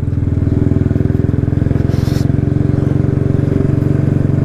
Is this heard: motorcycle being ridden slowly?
yes